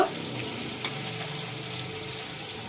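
Hilsa fish paturi fries in a pan, giving a steady close sizzle with a single sharp knock as the pieces are flipped, and no voices over it.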